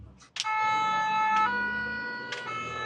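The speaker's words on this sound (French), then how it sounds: "Je vais appuyer sur le 2 tons, c'est la fameuse sirène des pompiers" A French fire engine's two-tone siren blares close and loud, its steady alternating pitches sounding alone from a firefighting vehicle heading out on a forest fire call.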